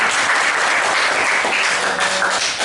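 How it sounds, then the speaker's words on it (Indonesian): A high school class claps together in a burst of lively applause lasting a few seconds, close and fairly loud. "terima kasih tepuk tangan untuk melakukan ini"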